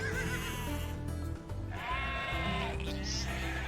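Sheep in the video game Age of Empires II bleat in a couple of wavering cries over a steady background of game music and ambience, fairly quiet and close.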